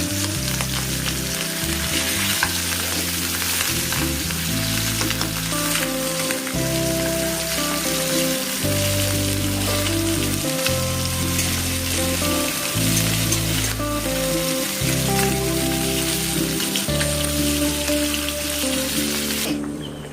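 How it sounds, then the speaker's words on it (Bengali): Pomfret fish fries in a pan, a steady close sizzle and crackle that runs unbroken for the whole stretch, with no one talking. "এই তো মাছটা ভাজছি আবার।"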